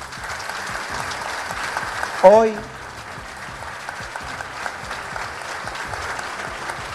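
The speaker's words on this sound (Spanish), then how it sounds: "gracias por ese aplauso, pero ese aplauso es de los vecinos" A crowd applauds steadily at a government agreement signing for street paving, a sustained wash of clapping with a brief voice rising above it.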